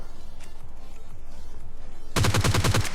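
Gunfire in PUBG Lite, a rapid automatic burst of about seven close, loud shots at the end, preceded by quieter, scattered game sounds.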